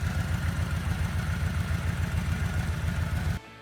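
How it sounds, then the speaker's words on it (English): Yamaha Venture Royale XVZ 1200 motorcycle exhaust, a steady, loud, low rhythmic idle burble that runs evenly for over three seconds and then cuts off abruptly. "Exhaust sound of the Yamaha Venture Royale XVZ 1200."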